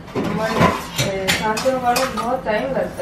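Dishes being washed by hand in a home kitchen, with metal pots and utensils clinking and clattering in short bursts close by while someone talks over them.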